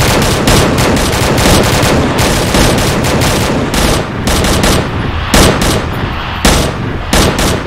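Dense, continuous automatic gunfire from a video game set in Fallujah, with loud overlapping bursts of rifle and machine-gun fire that roll on without pause and are punctuated by brief gaps.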